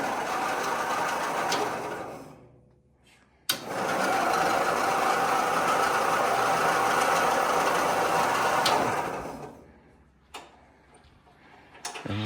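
The engine of a 1971 Husky Bolens 1054 lawn tractor cranks over in two long loud churning bursts, with short gaps and a few clunks between them.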